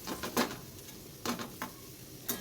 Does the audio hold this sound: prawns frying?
yes